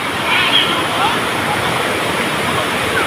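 Ban Luang waterfall in Kranuan district, Khon Kaen, Thailand, gives a loud, steady, close rushing roar of falling water that runs unbroken throughout.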